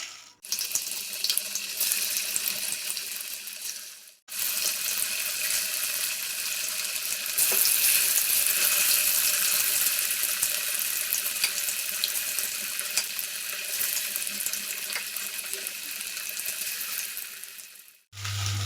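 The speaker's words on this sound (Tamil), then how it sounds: "எண்ணெய் காஞ்சிருச்சுங்க. இப்போ ஃபிஷ்ஷை போட்டுடலாம்." Paarai fish frying in hot oil gives off a steady, bright sizzling hiss that runs continuously with a brief break early on, close and fairly loud, with no talking.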